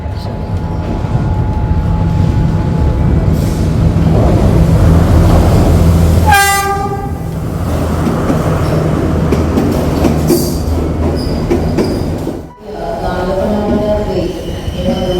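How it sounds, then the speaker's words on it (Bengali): A local passenger train rolls into a station in Sri Lanka, a loud rumbling roar of wheels and carriages with a sharp horn blast midway, then continued clattering and screeching as it slows. "ট্রেন ঢুকে পড়েছে"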